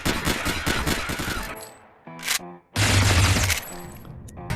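Rapid automatic gunfire from the VR zombie shooter Zombie World VR, loud bursts of shots that break off briefly and then resume in a dense, sustained volley.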